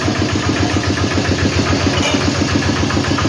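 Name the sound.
walk-behind tractor engine running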